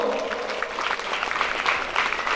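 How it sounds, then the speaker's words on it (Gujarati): Audience applause at a Ramkatha religious gathering in Machhiwad, steady dense clapping filling the whole moment with a faint voice underneath. "તાળીના ગણગાટ સાથે વધાવો."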